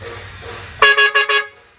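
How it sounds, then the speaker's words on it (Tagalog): Four loud, bright horn blasts in quick succession after a moment of low background rumble, with a brassy, two-toned trumpet quality, close by. "Sir, parinig ko sa iyo dual trumpet."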